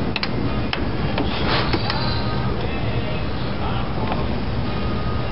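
A big torque wrench tightens the transmission band adjustment on a 1975 Dodge D100's A727 automatic to 30, giving a few sharp mechanical clicks and ratcheting over steady, loud broadband shop noise.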